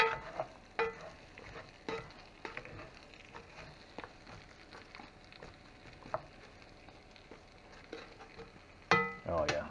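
A spoon stirs cabbage and bacon in a cast iron Dutch oven, making scattered scrapes and knocks over a low, steady sizzle, with a louder clatter near the end.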